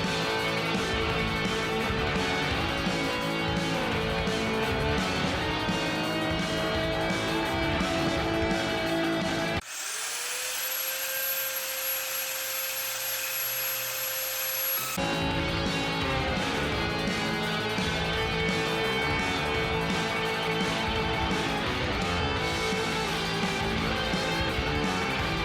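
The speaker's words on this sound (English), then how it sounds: "I'm going to use my ear protection and my small little 5-inch or whatever it is here saw, and I'm just gonna cut off at this line." A small 5-inch power saw cuts through a thrifted wooden tray, its motor whine rising and holding steady for several seconds amid continuous loud broadband noise.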